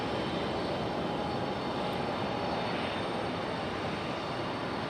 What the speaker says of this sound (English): This one is Delta 2164 coming in from Detroit, Michigan on A320-212